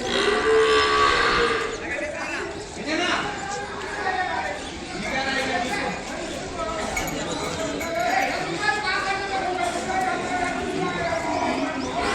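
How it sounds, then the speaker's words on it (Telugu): A month-old Ongole calf at a cattle market in Kodad bellows repeatedly in drawn-out moos amid a busy crowd of livestock, with people talking close by. "నెల దూడ నమ్మకానికి పెట్టారు ఇక్కడ. అది మార్నింగ్ నుంచి అరుస్తానే ఉంది పాపం."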